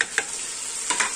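Tomatoes and chillies frying in a pot for chicken biryani are stirred with a spoon, giving two short scraping strokes over a steady, close sizzle.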